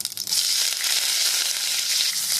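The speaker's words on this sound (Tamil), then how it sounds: "கடுகு நல்லா பொரியுது" Loud, continuous crackling sizzle of mustard seeds spluttering in hot oil, close up, starting after a brief clatter and carrying on without speech.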